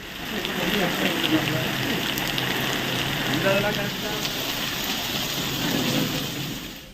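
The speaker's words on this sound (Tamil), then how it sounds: "பரவலாக மழை பெய்தது" Heavy rain pours steadily in Tamil Nadu, a dense, loud wash of drops hitting surfaces that continues throughout with no clear breaks.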